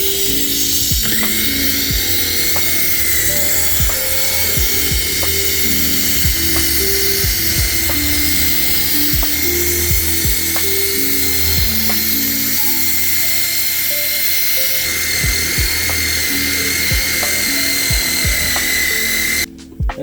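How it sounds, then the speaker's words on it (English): An electric drill brush whirs steadily for about twenty seconds, scrubbing the steamed interior of an R34 Skyline, loud and close, with short pitch dips and scrubbing clicks as the bristles work the surface. "we're gonna follow that up with the drill brush right behind it"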